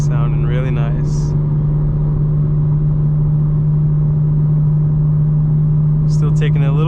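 A 2025 BMW M4 Competition xDrive in sport mode with a steady, loud engine and exhaust drone at low cruise, a constant deep hum through the whole stretch, with brief talk near the start and end.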